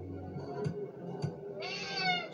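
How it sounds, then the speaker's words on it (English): A cat in a horror video game meows when scared, with two short sharp cries followed by a longer high-pitched wail, fairly faint over a low background hum. "So I scare this cat."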